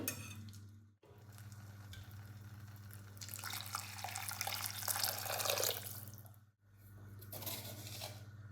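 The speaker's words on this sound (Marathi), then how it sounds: "आता याच्यामध्ये घालायचं आहे आपल्याला गरम पाणी." Hot water poured into a pan of fried masala gravy for shev bhaji, a steady gush rising for a couple of seconds over a low kitchen hum, with no talk.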